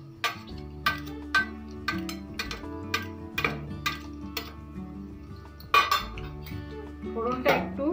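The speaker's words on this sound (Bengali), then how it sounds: "ফোড়নটা একটু নেড়ে চেড়ে 2 মিনিট একটু ভেজে নেবো ফোড়নটা।" Black cumin, cumin seeds and dried red chillies fry in a pan for kolmi saag while a spoon stirs, producing a steady rhythm of close metallic clinks and scrapes against the pan.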